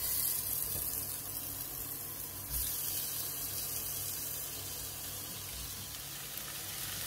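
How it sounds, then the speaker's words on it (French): Minced meat kefta skewers hiss and crackle in a hot pan, a steady close sizzle that swells briefly as more skewers go in. "quand la poêle est bien chaude, on va les mettre comme ça"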